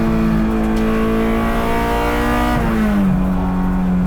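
Honda S2000 time attack car held at about 7500 RPM, a loud, sustained high-pitched engine howl heard from inside, with the pitch dipping slightly near the end.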